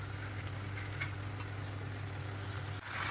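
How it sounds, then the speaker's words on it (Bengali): Frozen peas dropping into a pan of frying onions and cabbage, a soft continuous sizzle over a low steady hum, faint and unbroken. "এই যে ফ্রোজেন মটরশুঁটিগুলো ছিল দিয়ে দিলাম"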